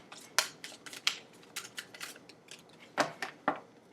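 Tarot cards being shuffled by hand, giving a run of crisp papery riffles and flicks with a few sharper snaps, close up and without talk.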